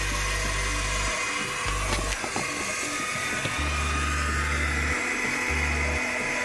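Smoothie blender on a LiFePo4 camper van battery in a Fiat Ducato van, a steady loud whirring motor drone that runs continuously, with low hum bands starting and stopping in short bursts.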